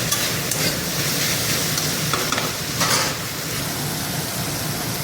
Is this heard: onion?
yes